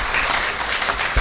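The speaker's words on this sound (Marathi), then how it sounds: "एकदा टाळ्या होऊन जाऊ देत." Audience applause at a Yugandhar Foundation tenth-anniversary celebration in Solapur, a dense, loud burst of many hands clapping together, heard briefly and alone.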